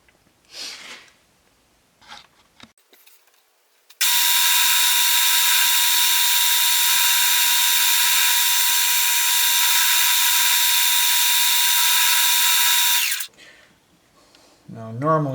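An aluminum Morris Minor hood hinge is cut on a milling machine, giving one loud, steady high whine of the cutter that runs unbroken for about nine seconds, with brief handling noises before and after.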